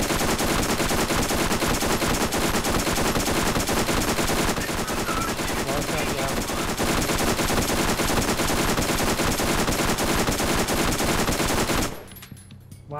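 Rapid automatic gunfire from a gun in the video game Borderlands, a loud, continuous stream of shots lasting several seconds before cutting off abruptly.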